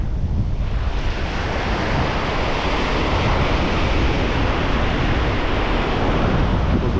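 Rough, choppy sea surf washes continuously against an island shore, a dense steady roar mixed with wind buffeting the microphone.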